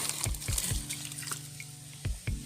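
Water poured out of a container holding about twenty litres, heard as a few gurgling glugs and splashes in short bursts, close and fairly loud, with no speech.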